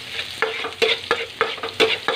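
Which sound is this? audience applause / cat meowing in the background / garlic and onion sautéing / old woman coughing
garlic and onion sautéing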